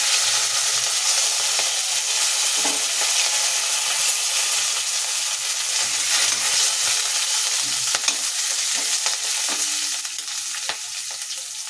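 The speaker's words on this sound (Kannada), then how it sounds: "ಚೆನ್ನಾಗಿ ಫ್ರೈ ಆಗಲಿ ಇದು ನೋಡಿ ರೀತಿ ಫ್ರೈ ಆಗಿದೆ" Peanuts, chana dal and green chillies fry in a kadai for a Bombay aloo masala palya, giving a loud, continuous close sizzle with occasional stirring scrapes and taps. No voices.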